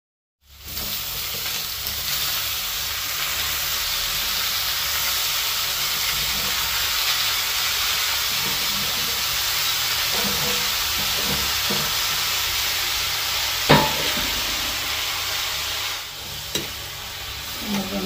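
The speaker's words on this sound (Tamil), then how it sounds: "கோல்டன் ப்ரௌன் கலரில் சின்ன வெங்காயம் நல்ல வடிவாக கோல்டன் ப்ரௌனாக வதங்கி வந்துட்டு இருக்கிறது" Small shallots fry in a pan until golden brown, giving a loud, steady, close sizzle that lasts throughout, broken by an occasional sharp clink of stirring.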